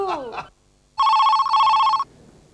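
A telephone bell rings loudly in two long bursts with a short gap between them, following a brief spoken word at the start, set in an indoor domestic scene.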